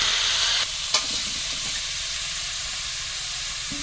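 Raw pumpkin frying in a pan with salt, turmeric and sugar, a steady broadband sizzle and hiss that eases slightly after the first moment, with a single brief knock and no talk.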